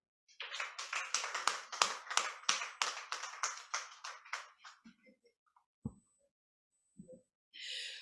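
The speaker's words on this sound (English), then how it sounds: "Please, another round of applause for him." At a speaking event, a small audience claps in a brief round of applause, crisp distinct hand claps for about four seconds that fade to scattered taps, then quiet with a faint rustle.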